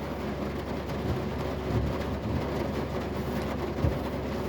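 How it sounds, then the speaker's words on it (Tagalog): Dense, steady roar of heavy rain fills the scene, with occasional low rumbles underneath and no voices. "ang lakas ng ulan oh"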